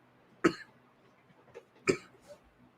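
Two sharp, throaty coughs a little over a second apart, with a softer one between them, close by and otherwise quiet.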